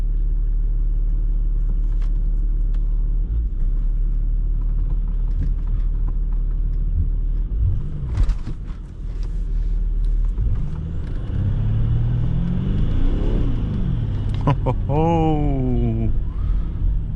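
A Jaguar S-Type 2.7D V6 twin-turbo diesel car pulls away hard from a standstill, with a deep rumble rising into climbing engine revs through several gear changes, heard from inside the cabin, with someone speaking over it.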